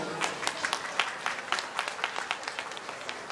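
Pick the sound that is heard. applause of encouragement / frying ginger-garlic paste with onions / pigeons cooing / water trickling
applause of encouragement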